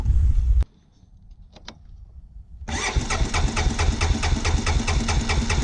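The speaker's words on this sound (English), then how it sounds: "we have an older four-wheeler. It didn't want to start." An older four-wheeler (ATV) engine in very cold weather cranks loudly for a moment, goes quiet, then catches and settles into a steady, close, loud running idle with a regular pulsing beat.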